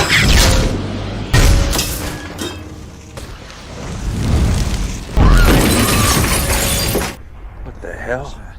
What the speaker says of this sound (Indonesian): Jeff bisa mendengar ledakan LPG 3 kilo yang membuat Elisa pingsan